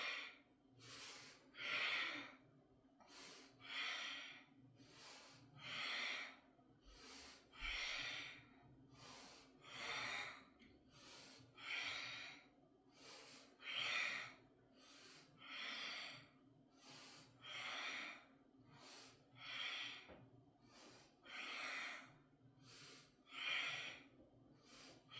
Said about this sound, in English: So we're gonna exhale